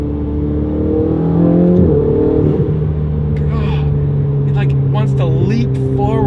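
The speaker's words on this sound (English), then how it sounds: "You can hear the turbo spin up. You can hear the blow-off valve." A Ferrari 488's turbocharged engine accelerates from inside the car, a loud steady drone with rising whistles of turbo spool and brief blow-off valve chirps, and a voice faintly present under the engine.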